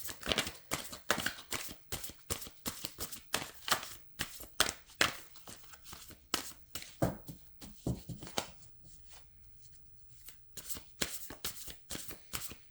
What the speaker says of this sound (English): It's interesting shuffling these particular cards